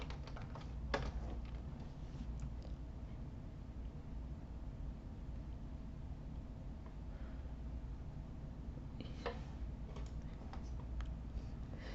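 Typing on a computer keyboard, a few quiet clusters of key clicks near the start and again near the end, with long low-level stretches of hum between them.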